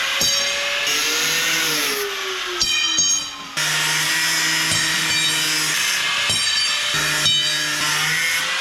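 Reinforcing bars for a saltwater lobster pot are cut with a power tool, a steady grinding whine broken into several passes with brief pauses between cuts.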